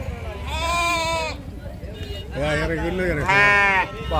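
Sheep and lambs at the Gudur sheep market give several loud, close bleats, three wavering cries with pauses between them, over a murmuring crowd background.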